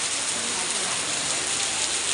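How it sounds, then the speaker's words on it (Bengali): Steady rain pours down outside, a dense, even hiss of drops hitting surfaces that stays constant and fairly loud throughout. "যাওয়ার টাইমে বৃষ্টিটা নামা শুরু করলো"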